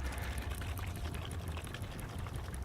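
Clean water pours steadily into a spray bottle while a rinseless car wash solution is mixed, a continuous close splashing gush that runs without pause.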